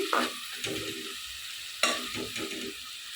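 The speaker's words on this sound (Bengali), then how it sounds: "মশলাটা কষানি হয়ে গেছে দেখুন তেলটা উপরে চলে আসছে" Spiced masala sizzles gently in oil in a pan as it is sautéed before meat goes in; two spatula scrapes stand out over a quiet, steady fry with no talking.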